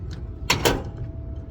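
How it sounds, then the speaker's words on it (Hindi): A door is pulled shut in a house driver's living quarters in Saudi Arabia, giving two quick, close thuds in a row over a low steady hum. "दरवाजे को कर देंगे बंद भाई साहब।"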